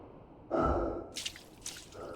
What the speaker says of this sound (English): Oh no, that's me breathing.